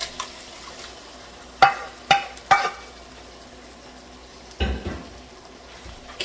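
Vegetables stirred in a pot of hot oil while cooking a Haitian pork and vegetable dish, a few sharp utensil scrapes and clatters over a low steady sizzle, close and moderately loud, with no talking.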